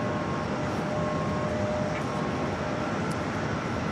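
A Boeing 747-400 departs JFK from runway 4 left, its jet engines making a steady, dense roar that holds level for the whole stretch with no voices over it.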